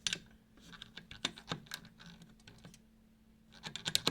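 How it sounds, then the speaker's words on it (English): A magnetic pull-in draught device on a window frame clicks in quick, irregular bursts of sharp, close taps, pausing briefly before another cluster of clicks. "you can hear it clicking, which is pulling the compression in"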